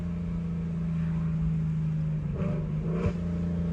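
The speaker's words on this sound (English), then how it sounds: "this is literally a straight piped car to the max with a Corsa double helix pipe" A straight-piped Ford Mustang with a Corsa double helix exhaust idles with a deep steady drone, then gives two short sharp blips of the throttle near the end.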